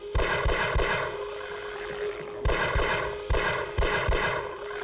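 Gunfire in the video game Half-Life, several sharp loud shots in short bursts, with a steady electronic hum underneath.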